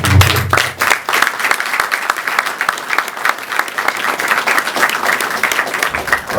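Sustained audience applause at a youth gathering, dense and steady clapping throughout, moderately loud with light crowd noise and no talk over it.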